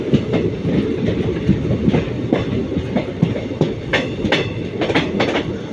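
A train rumbles past close by at a level crossing near Palani–Pollachi line, its wheels clacking rhythmically over the rails with a steady, loud roar throughout.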